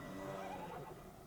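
A horse mount summoned in the Dungeons & Dragons Online video game lets out a single whinnying neigh, a short wavering cry that trails off quickly at moderate volume.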